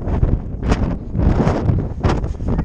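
Strong wind buffeting a microphone on an exposed mountain at night in deteriorating conditions, loud rumbling gusts that swell and drop in bursts throughout.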